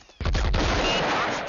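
Heavy gunfire erupts in a tense World War II film scene, a sudden loud burst followed by sustained rapid shots and echoing blasts.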